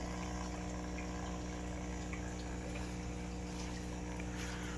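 A CO2 tablet fizzing and bubbling in water, a steady continuous hiss of rising bubbles mixed with a constant low pump-like hum, close and even throughout.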